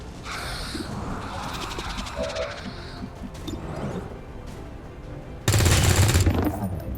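Automatic gunfire rattles in XCOM Long War of the Chosen, moderate at first, then a louder, sharper burst erupts near the end over a background of battle noise.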